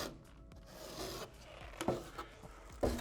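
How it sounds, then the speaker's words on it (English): Trowels scrape and drag waterproofing material up a wall, one trowel holding it while the other pulls it upward, giving close, soft rasping strokes with a few sharper scuffs. "holding it in place with the one trowel and then dragging it up the wall with the other one"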